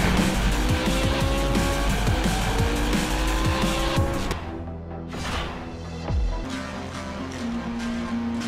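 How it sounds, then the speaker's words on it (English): High-speed race cars in a racing video game, engines whining and tires squealing through fast cornering, loud and close, easing into softer engine drones and passes partway through. "feel the thrill of gravity-defying racing across 40-plus high-speed tracks"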